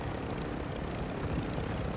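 Helicopter in the Call of Duty Modern Warfare 2 video game, a steady broadband rotor and engine drone that stays fairly faint and constant throughout without any talk.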